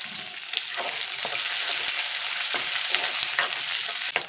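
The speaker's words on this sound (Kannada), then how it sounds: "ಈರುಳ್ಳಿ ಸ್ವಲ್ಪ ಕೆಂಪು ಫ್ರೈ ಮಾಡ್ಕೊಳ್ಳೋಣ" Chopped onion and a couple of broken dried red chillies sizzle in a pan with a steady, close hiss, punctuated by scraping stirs, and nobody speaks.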